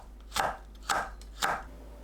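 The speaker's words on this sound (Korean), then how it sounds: "홍고추를 어슷 썰어주세요." A knife slices red chili peppers diagonally on a cutting board, giving three evenly spaced, close, crisp chops, each ending in a soft thud, in an otherwise quiet kitchen.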